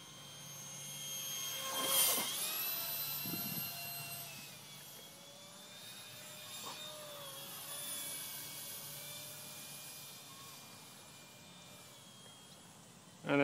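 A small scratchbuilt R/C Mirage 2000 model jet on a small battery flies overhead with a steady, thin whine, rising in pitch as it nears and easing off as it passes, faint and distant.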